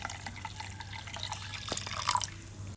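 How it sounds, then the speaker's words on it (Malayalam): Water trickles and drips as it is poured into a ground cooking paste, a light splashing stream with faint kitchen clatter over a low steady hum, no talking. "ഇതിൽ കുറച്ച് വെള്ളം ഒഴിക്കാം എന്നിട്ട് അതിലേക്ക് ഒഴിക്കും"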